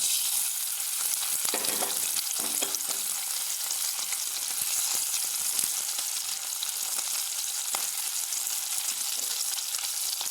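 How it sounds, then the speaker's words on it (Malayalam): Crushed onions dropped into two spoons of hot oil, frying with a steady bright sizzle and crackle that continues evenly throughout, with occasional soft stirring clinks and no voices. "ചൂടായി വരുമ്പോഴത്തേക്ക് നമ്മൾ ചതച്ച് വെച്ച ഉള്ളി ഇട്ട് കൊടുക്കുക"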